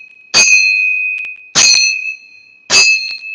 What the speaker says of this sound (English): As you hear the sound of the temple bells,